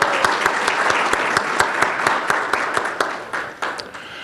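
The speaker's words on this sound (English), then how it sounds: "please join me in thanking them with a round of applause" A conference audience at a dental public health event claps for several seconds, individual sharp claps standing out in a steady rhythm over the dense applause, which thins slightly toward the end.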